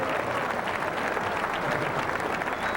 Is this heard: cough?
no